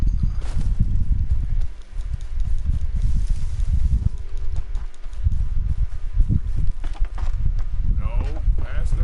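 Hoofbeats of horses drawing near in Red Dead Redemption 2, a muffled clip-clop rumbling under continuous talking and game noise.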